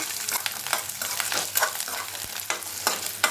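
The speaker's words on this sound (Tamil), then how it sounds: "நல்லா வதக்கிக்கோங்க." Garlic cloves sauté and sizzle in a pan for garlic chutney, a steady bright frying hiss broken by repeated scraping stirs from a spoon, close and alone with no talk.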